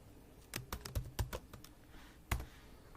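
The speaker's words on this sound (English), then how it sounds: "Then we have to hit enter" Several quick, light clicks of a computer keyboard in a quiet room, a handful of separate key taps ending with one firmer press, close and clear with no talking.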